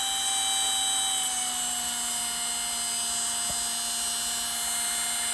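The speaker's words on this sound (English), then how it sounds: "I'm just going to let it sit here and run for a while and break them brushes in." A small brushed electric motor from a Radio Shack RC Hummer project runs during brush break-in, giving off a steady, high-pitched whine with a constant tone, close by and unbroken.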